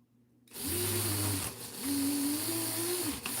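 A power drill runs in loud sustained bursts while boring a hole in a mixed media art piece, its motor whine rising and dipping through two long pulls with a brief pause between.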